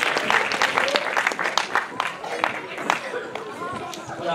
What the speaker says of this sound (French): on peut applaudir tout un groupe